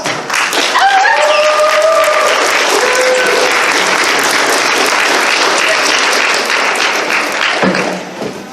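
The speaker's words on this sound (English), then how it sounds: "Let's give him a round of applause." A stand-up comedy show audience gives a full, loud round of applause for an improv comedian, dense clapping sustained evenly for about eight seconds with a few whoops and a brief cheer early on, fading at the end.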